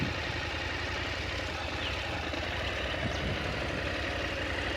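KTM 890 Adventure R motorcycle engine during a slow off-road turn, a steady low rumble at low revs, fairly close and continuous.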